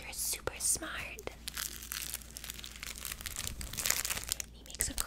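Thin crinkly elephant baby toy being squeezed and crumpled close up, soft crackling rustles in quiet bursts, with faint whispered talk at a childcare setting.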